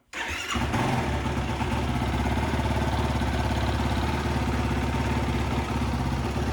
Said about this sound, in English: All right, let's do a cold start.